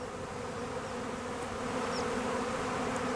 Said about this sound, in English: Over the next hour, more and more bees appear. And they all fly to Lotta.